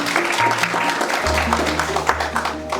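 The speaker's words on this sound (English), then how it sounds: "Please let's give her a round of applause." Audience applause at a stock exchange opening bell ceremony, a steady patter of clapping from a crowd, with faint hum and a voice beneath.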